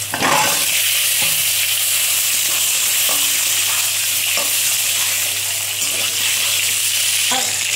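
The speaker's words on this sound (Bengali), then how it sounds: "আলুটা ভাজা ভাজা হয়ে যাচ্ছে" Potatoes fry in a hot pan with cumin, giving a steady, close sizzle, with occasional stirring scrapes breaking through.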